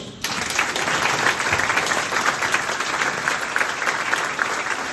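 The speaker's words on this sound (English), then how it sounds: "A big round of applause." An audience at a Plain Edge Public Schools board of education meeting claps steadily for staff completing their probationary period, a dense, even applause that fills the room from start to finish.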